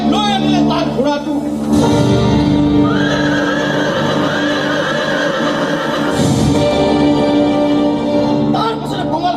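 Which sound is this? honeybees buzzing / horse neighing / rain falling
horse neighing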